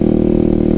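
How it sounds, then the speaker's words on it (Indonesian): Kawasaki ZX6R motorcycle engine breathing through a Maskov aftermarket exhaust made in Indonesia, running with a steady, loud, dense rumble for a brief moment, close up and without voices. "Ganti knalpot namanya Maskov."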